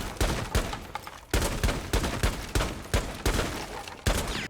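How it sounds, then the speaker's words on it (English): Gunfire in Rainbow Six Siege shoots out wall panels as a string of sharp, loud bursts with short pauses between them, each burst a rapid volley of cracks. "you can just shoot the panels out as well"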